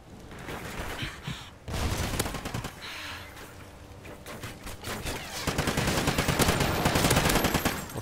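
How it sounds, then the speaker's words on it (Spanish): Rapid bursts of automatic gunfire from a Call of Duty: Ghosts match, crackling close and loud with dense repeated shots across the whole stretch, briefly pausing before resuming more heavily toward the end. "¿Quién me dispara ya, macho?"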